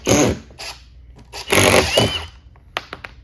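A Ridgid impact driver drives a screw in short, loud, rattling bursts with gaps between them, then cuts out, leaving a few sharp clicks and taps close by.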